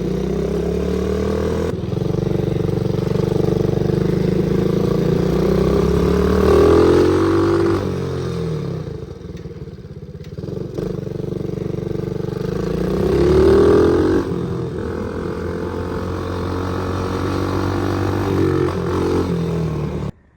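A cheap $40 quad bike converted into a drift quad runs through a short one-handed ride, its small engine droning steadily and loud, rising twice as the throttle opens, with faint rattling and clatter underneath.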